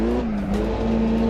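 Historic race car in Assetto Corsa braking heavily on the Long Beach street circuit, a loud, sustained engine drone with a slightly dipping pitch, brief and continuous.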